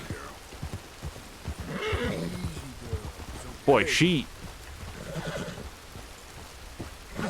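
A mare in the Red Dead Redemption 2 video game gives one sharp, loud whinny midway, over steady rain and light hoof clops while someone speaks softly to her.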